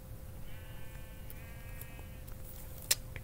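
A single faint, drawn-out sheep bleat in Minecraft rises over a steady low hiss, followed by a brief sharp click near the end.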